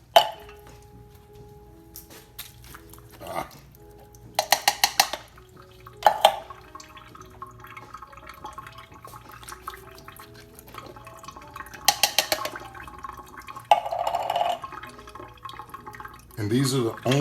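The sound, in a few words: rinsing canned kidney and pinto beans with water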